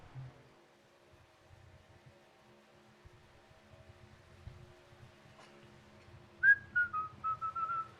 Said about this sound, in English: I'm going to be whistling it for hours.